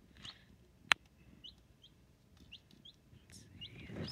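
Young chicks in an indoor brooder give a few faint, scattered peeps and soft calls, with one sharp click early on and low handling noise beneath.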